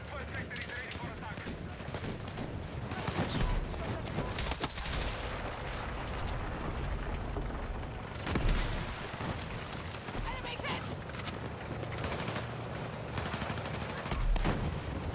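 Shotgun fire in Battlefield 6, a fire-type shotgun used in a crowded objective area. Blasts repeat irregularly amid a dense, continuous wash of battle noise, with other gunfire and explosions layered throughout.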